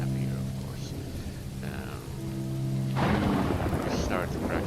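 Heavy rain pours steadily with rolling thunder, a dense loud wash of rainfall and low rumbles, with a low hum and faint whispery voices in the background.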